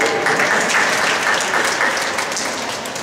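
Audience members at a goal-setting session clap together in a steady, dense round of applause that holds for a few seconds and eases slightly toward the end.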